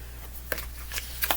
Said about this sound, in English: now I'm going to shuffle